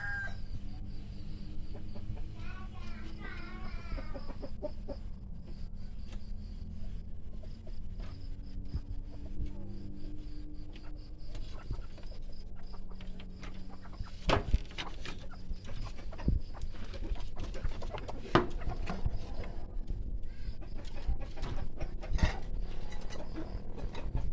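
A newly caught red junglefowl (labuyo) gives faint, intermittent clucks at close range over a steady low background hum, with no talking.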